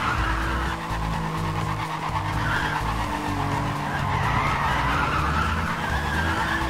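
Car tires skid and screech continuously under a handbrake slide in the racing game Need for Speed World, with a steady engine drone beneath the loud sustained squeal.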